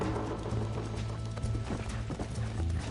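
A horse gallops with rapid, loud hoofbeats and lets out a neigh in Red Dead Redemption, the dense pounding rhythm filling the whole moment with little else heard.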